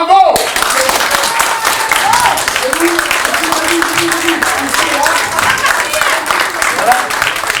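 Theatre audience clapping steadily through a staged card-game scene from Marius, a dense even spatter of hands with faint voices and brief tonal sounds drifting above it.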